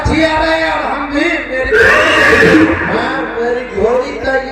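Horse neighing as a stage sound effect during a rural Hindi nautanki folk theatre performance, a loud drawn-out whinny swelling mid-clip over a dense backdrop of voices and stage noise.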